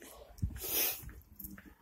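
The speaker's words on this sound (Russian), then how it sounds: "будь здорова, не чихай" A single sharp sneeze bursts out near the start, followed by soft breathing, snorting and faint whispered murmurs indoors.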